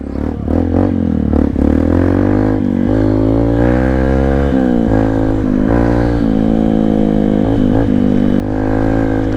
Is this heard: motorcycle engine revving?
yes